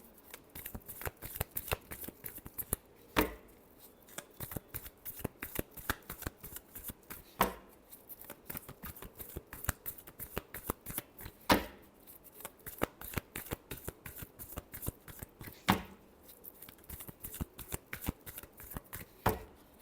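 Tarot cards shuffled by hand in a steady run of crisp riffling flicks, with a sharper snap every few seconds as the deck is squared, close and fairly quiet throughout.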